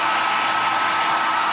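A strong electric blower is aimed inside a submerged engine, its even, loud airy roar running unbroken and close with no voices.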